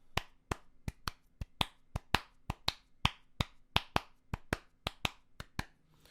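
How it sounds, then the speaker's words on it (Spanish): Sharp hand claps, about twenty in a steady, fairly even rhythm, close and distinct against a quiet background, with no talk. "Ambos son el sonido de mis palmas"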